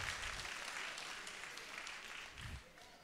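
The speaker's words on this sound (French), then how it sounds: "Allez, on applaudit bien fort." Audience applause at a regional religious assembly in Rennes, a steady crowd clapping that holds through the whole stretch with no single voice standing out.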